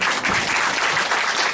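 Audience applause at a human rights commission press event on forced psychiatric hospitalization, a steady broadband wash of clapping from a crowd, loud and sustained without pause for the whole moment.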